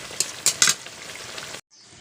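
Raw mustard oil hits a pan of pabda fish curry with loud sizzling bursts and sputters, several sharp surges early on before the sound cuts off abruptly and a faint hiss remains.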